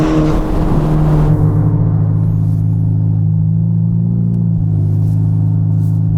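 A 2022 Ferrari Portofino M sends out a loud, close, steady engine drone that climbs gradually up the rev range and holds a strong rumbling tone throughout, with no voices.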